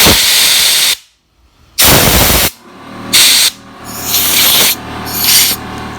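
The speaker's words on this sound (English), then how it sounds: "I just simply spray them out with some carburetor cleaner and then blow them out with a little air" Several loud bursts of carburetor cleaner aerosol spray and compressed air hissing, each lasting about a second, separated by short pauses, close to the microphone, while cleaning Echo chainsaw bar stud parts.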